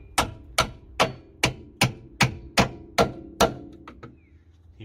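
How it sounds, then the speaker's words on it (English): A hammer strikes a stuck brake disc during a driveway brake disc and pad replacement, nine sharp metallic whacks at a steady rhythm, close and loud, followed by faint clinks and quiet. "get your hammer out, give it a whack"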